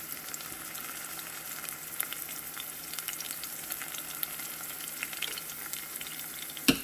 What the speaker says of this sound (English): we're gonna fry that a little bit